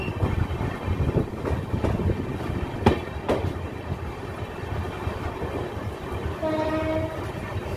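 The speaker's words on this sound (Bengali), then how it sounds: "ট্রেন আমাদের চলে এসছে নবদ্বীপ ধাম" An LHB coach rolls along on the Kolkata–Radhikapur Express, heard from inside with a constant heavy rumble and clatter, a few sharp knocks, and a distant horn sounding near the end.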